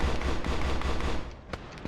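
A Tigris anti-air vehicle in Arma 3 fires a rapid, sustained burst of loud automatic cannon shots that rolls on for about a second before cutting off, leaving a faint echo and a couple of distant pops.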